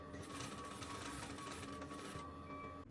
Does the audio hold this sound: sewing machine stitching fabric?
yes